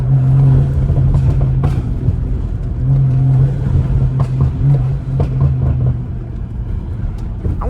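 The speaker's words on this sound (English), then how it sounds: "I want y'all to just listen to the turbo, bro." Interior of a 500-horsepower turbocharged BMW accelerating on a night drive, a loud steady engine drone with a low humming tone that rises and falls as the turbo builds, no talking.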